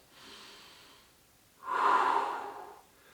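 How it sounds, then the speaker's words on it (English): One person takes a big breath, a soft inhale followed by a louder, longer exhale, close up and with no talking. "So when you take a nice big breath in and out, or in and out,"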